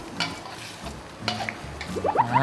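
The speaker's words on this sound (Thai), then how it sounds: "ผัดพริกแกงก่อนนะคุณผู้ชมผัดให้หอมก่อนนะครับ" Southern Thai curry paste being stir-fried in a pan, with a soft sizzle and repeated scraping strokes of a utensil against the metal; a voice begins speaking near the end.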